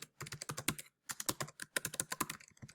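Rapid typing on a computer keyboard, close and crisp, two bursts of quick keystrokes separated by a short pause.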